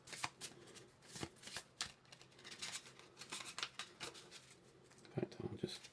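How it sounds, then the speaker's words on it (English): A deck of board-game cards for the Mr. President 2020 scenario being shuffled by hand, with repeated crisp riffling bursts and slaps in an uneven rhythm, close and fairly quiet. "so we can shuffle this deck"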